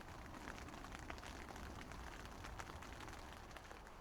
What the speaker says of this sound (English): that noise of the rain hitting the fly sheet is so relaxing